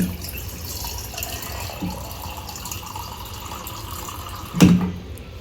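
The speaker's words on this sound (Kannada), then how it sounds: "ಇಲ್ಲಿ ನೋಡಿ, ನೀರು ಹಾಕಾಕತ್ತೀನಿ" Water from a bottle pours into a cooking pot to rinse pasta, a steady splashing fill running throughout, close by and moderately loud, with a brief louder splash near the end.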